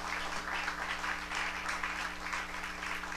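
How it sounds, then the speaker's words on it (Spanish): A church congregation gives soft, steady applause to the Lord, a diffuse wash of clapping heard faintly and at a distance over a constant low electrical hum. "Y eso sí merece un fuerte aplauso al Señor."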